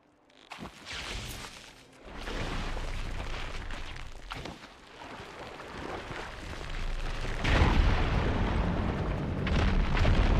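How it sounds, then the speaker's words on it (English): Fire gleam rubble explodes in the video game Horizon Forbidden West: several loud rumbling blasts with crackling debris arrive in bursts, the last one swelling into a sustained roar. "Igniting that fire gleam should clear it."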